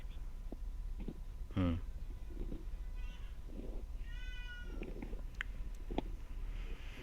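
A house cat meows a few times, fairly faint and set against a quiet, hissy indoor background, with scattered soft clicks and a murmur of distant voice.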